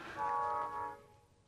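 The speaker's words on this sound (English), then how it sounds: "Hey, that was the train." A train horn sounds at a distance near Menindee, one steady held blast with a rich, chord-like tone that swells, dips and fades within about a second over faint rumbling background.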